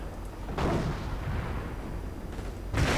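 An artillery barrage in a 1v1 video game match: two heavy booming blasts, one early and one near the end, rumble over a steady low background noise.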